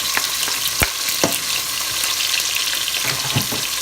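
Bacon frying in a pan for string beans, a steady close crackling sizzle with occasional pops and stirring clicks, loud and continuous with no voices.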